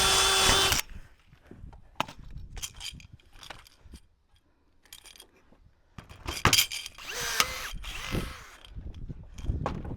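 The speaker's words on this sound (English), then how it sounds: "all I need you to do is drill it back out, put the new one in" A power drill whines briefly at the start while drilling out a rivet on a vinyl gate, then grinding and metallic rattling follow, with another loud burst of drilling near the end.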